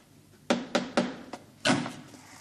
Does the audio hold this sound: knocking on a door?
yes